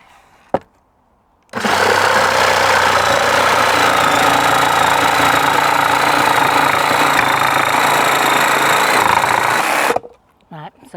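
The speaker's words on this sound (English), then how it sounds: "This is just a cordless jigsaw, okay? It's a Black & Decker, cheap one" A cheap cordless Black & Decker battery-powered jigsaw cuts through wood in one continuous burst of about eight seconds, a loud close buzzing rattle with a steady high whine, starting and stopping abruptly.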